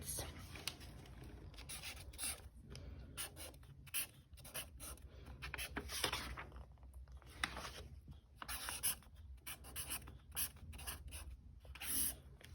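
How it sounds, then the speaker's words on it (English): Pencil scratches across paper while mixed-number fractions are rewritten for a math lesson: close, steady scribbling in short strokes with brief pauses, and no talking. "I want to rewrite this on another piece of paper"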